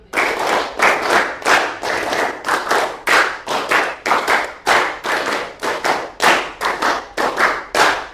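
A standing group claps in rhythm for an ice-breaker game, a long steady run of loud, sharp unison claps in close, even beats.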